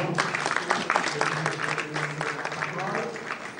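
Applause greets speaker Roland Kouemé at a leadership training session, brisk clapping from a room of people under some talking and cheering voices, steady through the short stretch.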